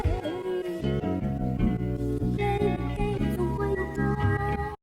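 Chopped music sample slices for a boom bap beat, played back in rhythm: short harmonic segments with pitched tones and bass restart in a steady chopped pattern, loud and continuous with no voice.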